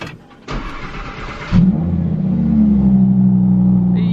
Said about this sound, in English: This thing sounds absolutely beastie on cold start.